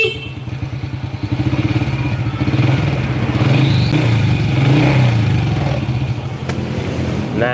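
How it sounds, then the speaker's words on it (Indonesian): A Honda Supra Fit New Legenda motorcycle engine idles and revs nearby, a continuous mid-pitched clattering drone that rises and settles over several seconds, with no talking. "Bagi teman-teman yang punya motor Suprafit New Legenda, itu akan terdengar suara kayak gitu."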